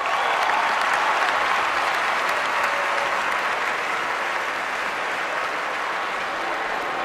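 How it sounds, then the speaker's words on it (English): A large audience at the 2016 NAACP Image Awards ceremony applauds steadily and loudly throughout, a dense wash of clapping with no speech over it. "give a round of applause for Stacey Dash"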